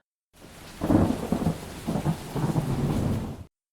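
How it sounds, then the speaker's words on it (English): Deep rolling thunder rumbles over steady rain, swelling in and then cutting off abruptly. "It started to storm."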